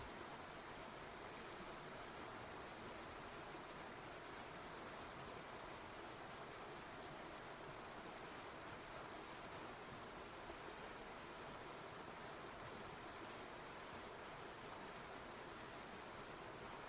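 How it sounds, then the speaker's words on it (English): In a video game, a waterfall gives a steady, broad rush of falling water, faint and unchanging, with no voices throughout. "After I manage to get behind the waterfall,"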